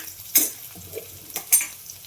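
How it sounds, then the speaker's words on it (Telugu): Onions frying in a pan with whole spices (cinnamon, cloves, marathi moggu, star anise) for vangi bath: a few sharp scraping stirs over a soft, quiet sizzle. "ఆనియన్స్ బాగా వేయించుకోవాలి."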